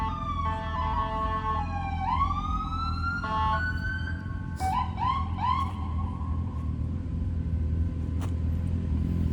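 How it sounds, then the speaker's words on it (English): An ambulance siren wails in traffic with rising and falling sweeps and repeated short yelps, loud and fairly near, over a steady low rumble of car engines. "It's kind of crazy how cars just sit there and just won't move out of the way of ambulance."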